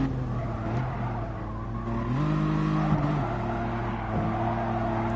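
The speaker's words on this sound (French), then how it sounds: "Toujours se fier au bruit du moteur." Race car engine in Gran Turismo Sport on PS4, a loud continuous drone that holds steady, then steps up in pitch through a gear change and keeps revving with faint tire squeal underneath.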